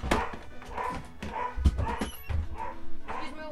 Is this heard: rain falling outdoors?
no